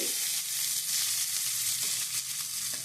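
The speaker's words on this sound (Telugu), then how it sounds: "మిగిలినం అయితే ఇట్లా వేయించుకుంటే అది వేడి వేడిగా అవుతుంది" Leftover rice for a raw tamarind rice dish fries in a pan, with a continuous, even sizzle and faint stirring close by and no voices.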